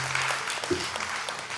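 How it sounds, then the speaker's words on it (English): A brief burst of audience applause at a live cultural music program after a devotional performance, a dense, even patter of clapping at moderate volume. "Let's give Smriti one more big round of applause."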